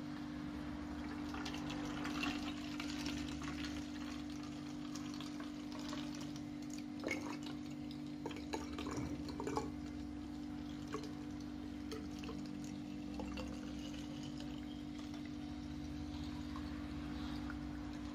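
Water runs steadily into a bottle holding a mix of Dettol disinfectant and air freshener, a faint, continuous pouring sound over a low electrical hum, with no talking.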